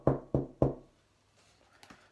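Three firm, evenly spaced knocks on a door, close and distinct, followed by a couple of faint softer taps.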